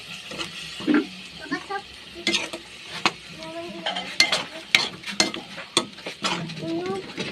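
Pork in shrimp paste being stirred in a frying pan, with intermittent scraping strokes and a low sizzle, close by, mixed with children's voices and chatter in the background.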